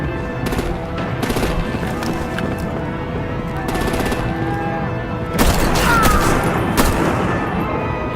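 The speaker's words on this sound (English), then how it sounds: "Break out the artillery and disable their vehicles!" Artillery and rapid gunfire in the video game Batman: The Enemy Within: dense bursts of shots and booms, with louder volleys in the middle and near the end.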